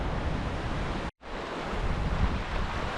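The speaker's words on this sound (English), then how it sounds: "A lot of water coming down there." Rushing stream water in the Rockburn Valley after heavy runoff, a loud broadband roar mixed with wind buffeting, broken by one brief dropout.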